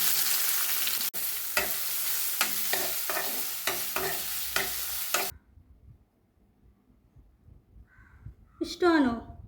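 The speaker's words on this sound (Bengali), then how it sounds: "এবার তেলের মধ্যে দিয়ে দিলাম গরম মশলা আর 5 ফোড়ন" Garam masala, five-spice and bay leaf fry in oil with a loud, steady sizzle and repeated stirring scrapes for about five seconds, then stop abruptly; near silence follows before a short harsh bird-like call at the end.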